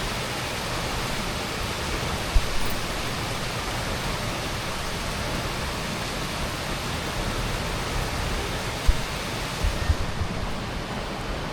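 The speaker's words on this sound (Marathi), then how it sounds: "पाऊस बघू शकता बाहेर खूपच वाढलेला आहे आता" Heavy rain pours steadily outside during a monsoon downpour, a dense continuous hiss with occasional faint knocks, no voices.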